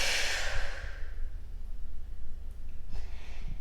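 A long, audible exhale during an abdominal toning exercise, a breathy rush at the start that trails off into quiet room sound with a few soft breaths.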